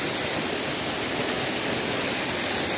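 Steady broadband roar of the Água do Jacutinga waterfall, a continuous rush of falling water that stays loud and even throughout, with no voices.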